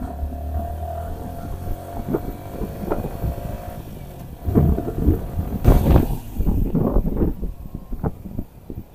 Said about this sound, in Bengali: এখন কথা বলবো না, একটু বাইকটা চালাই।